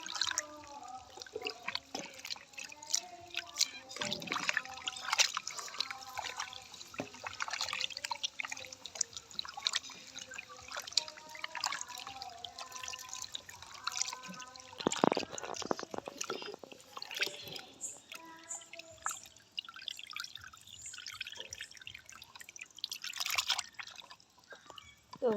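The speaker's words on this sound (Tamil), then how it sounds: "தண்ணியை வந்து நிறையவா ஊற்றி கழுவுவோம்." Water poured and splashed over raw chicken pieces while they are being washed for a Jaffna-style chicken curry, heard as soft, irregular trickles and drips with squishy handling, fairly quiet and close.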